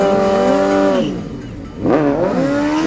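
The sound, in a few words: Suzuki GSX-R600 and Suzuki GSR750 motorcycles drag racing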